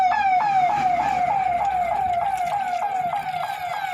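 A loud ambulance siren cycles through a steady, repeated rising-and-falling wail as it passes along a road at the Ghazipur border during a farmers' protest, with no talk over it.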